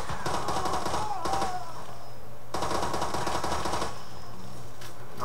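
AR-16 rifle fire in Far Cry 2, loud close bursts of rapid automatic shots in three runs separated by brief pauses.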